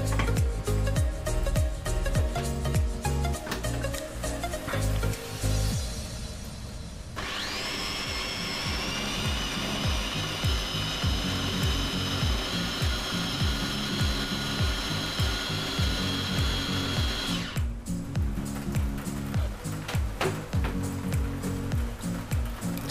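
A kitchen machine chops spinach filling for ricotta ravioli, a loud continuous motor whine with a high steady tone in the middle stretch and rattling, clattering blade noise before and after.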